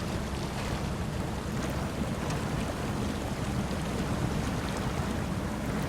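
Chevy Apache 6X6 truck in SnowRunner wading into a creek, a steady broadband wash of churning water and low engine rumble filling the scene evenly from start to finish, with no voices.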